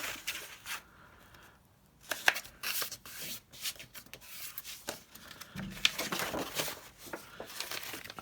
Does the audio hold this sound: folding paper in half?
yes